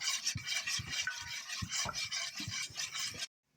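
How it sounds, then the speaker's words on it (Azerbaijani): Eggs being mixed in a bowl, a steady scraping, rasping stir with repeated stroke accents for about three seconds, then it stops abruptly into silence. "Yumurtanı qarışdırırıq."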